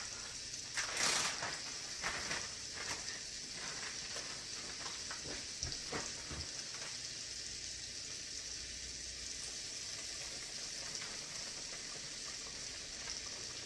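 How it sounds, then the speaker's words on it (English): Fish pieces fry in a pan with a steady, fairly quiet sizzle resembling light rain, a few crackles and taps early on, then an even hiss throughout. "Now over in this pan, I'm going to start the fish."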